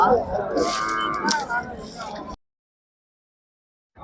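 Cows at a cattle market moo nearby, a drawn-out bellow rising over crowd chatter and voices, followed by abrupt silence.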